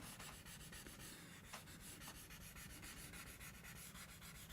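Soft, steady rubbing of a blending stump smoothing graphite pencil marks across paper, a continuous dry scratchy whisper with faint rhythmic strokes, close and quiet.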